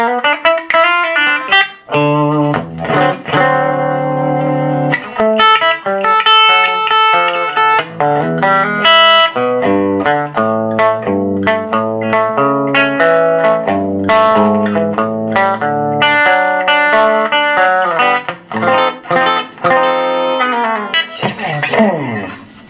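A 1974 Gibson ES-335 electric guitar played through a 1966 Fender Princeton tube amplifier, with crisp picked notes and chords, slightly overdriven and ringing with some reverb.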